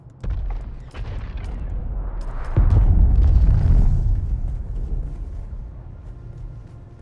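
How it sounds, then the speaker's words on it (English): A big explosion in the Dune Awakening video game, a deep booming rumble that swells suddenly, holds for about a second, then fades slowly over a steady low game ambience. "Heard a big explosion."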